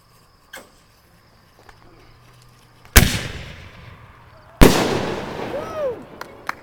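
Two loud, sharp firework blasts from 10,000 degree artillery shells, each ringing out with a long crackling decay, the first near the three-second mark and the second a moment later, with faint background noise between.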